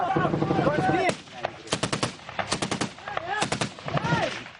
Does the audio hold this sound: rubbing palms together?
no